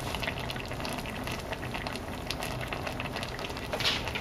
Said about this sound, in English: My stew is simmering and it is smelling delicious.